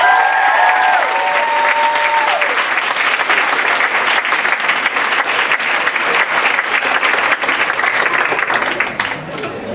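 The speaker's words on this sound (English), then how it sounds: "Maybe one more round of applause." A live audience at a performance and Q&A breaks into sustained, dense applause, loud and close, with a few faint cheers at the start and the clapping holding steady throughout.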